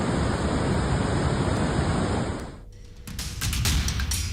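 Rushing floodwater from a swollen stream in Madhya Pradesh, a steady broadband roar of surging current that dips briefly around three seconds before swelling back up, loud and close with no voices.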